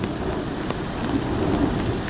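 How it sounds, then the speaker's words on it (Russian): Heavy rain pouring steadily in Antalya, a dense even hiss with faint low rumbles that suggest thunder, alone with no voices. "Вот снова усилился дождик."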